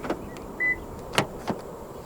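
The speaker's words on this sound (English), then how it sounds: "To lock the car, press the black button on any of the front door handles." Door-handle lock button pressed on a 2022 Honda City Hatchback 1.5 V, giving a short electronic chirp and a couple of faint clicks and thunks from the car's locks, close by and alone in a quiet setting.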